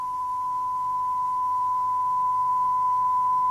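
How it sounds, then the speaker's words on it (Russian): A steady 1 kHz sine test tone holds at constant loudness for the full length, a pure continuous electronic pitch with no other sounds. "Если частота увеличится до 1 кГц, вы услышите вот такой звук."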